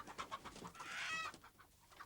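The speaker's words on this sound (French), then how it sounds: "les poules effarées s'agitent en gloussant sur leur perchoir" Startled hens on a henhouse perch cluck and squawk in agitated, uneven bursts, fairly close, rising to a louder flurry midway before settling, with no voices.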